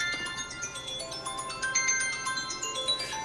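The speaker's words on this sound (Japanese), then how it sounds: "電話です" A telephone ringtone plays a bright, repeating electronic melody at moderate volume against a steady background hiss.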